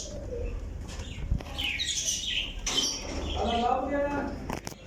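Young Teddy flying pigeons in a breeder's loft in Pakistan coo and chirp close by, with intermittent calls and a brief flutter, while someone talks over them.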